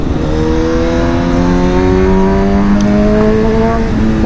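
A Honda CB1000 SP motorcycle engine revs hard up close, its pitch climbing steadily in a loud, continuous acceleration with no voices.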